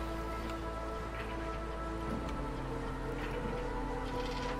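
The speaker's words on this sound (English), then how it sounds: "Stupid cloudburst." Cloudburst rain in the game Against the Storm pours as a steady, dense hiss of falling drops with scattered pattering, continuous and fairly quiet over a low background hum.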